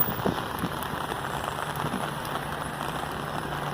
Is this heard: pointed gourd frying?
no